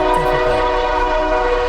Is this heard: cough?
no